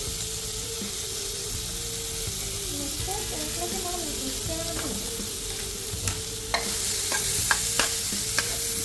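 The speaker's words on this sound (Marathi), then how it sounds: "कांदा परतून घेतलेला आहे" Finely chopped onion sautéing in a hot pan with cumin, a steady close sizzle with stirring scrapes and a few sharp clicks of a spoon toward the end.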